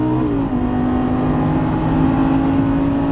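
A Lamborghini Gallardo Superleggera LP570 engine droning loudly on track, its pitch dropping as it upshifts early on, then holding a steady, close roar with no talk.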